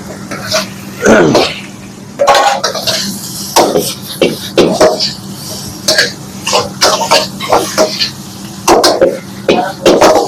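Chicken and prawns tossed into chowmein frying in a pan, with bursts of sizzling and scraping stirs in uneven rhythm, loud and close, alongside a cough and some throat clearing.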